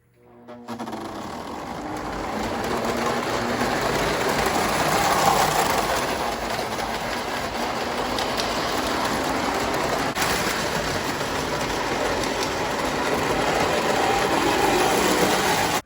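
A small O gauge model Alco locomotive runs steadily along its track, a continuous mechanical whir and rattle with faint clicking, fairly close and without voices.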